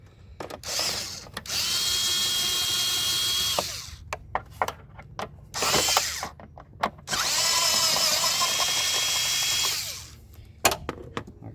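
Power drill or impact tool loosening the starter bolts on a 2003 Toyota Avalon 3.0 L V6, two long whining bursts with ratcheting clicks and metallic clanks of tools between them, close and loud.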